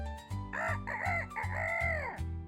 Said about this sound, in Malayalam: കുറുക്കൻ കോഴി മനോഹരമായി പാടുന്നത് കേട്ടു.